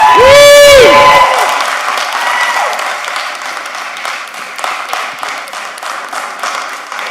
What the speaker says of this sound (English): So big round of applause for all the talented women in the city.